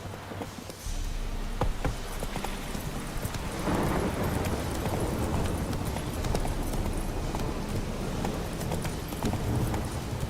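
Roach the horse trots along in The Witcher 3, hooves clip-clopping in a brisk, steady rhythm at close range. The rhythm picks up after a brief quieter opening and continues for the rest of the clip.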